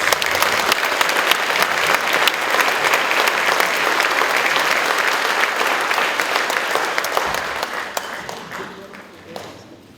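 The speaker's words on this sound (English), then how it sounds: "So let's give them a round of applause for that." An audience at a 5th–8th grade school orchestra concert applauds, a dense, steady wash of clapping that holds for most of the clip before thinning and fading at the end.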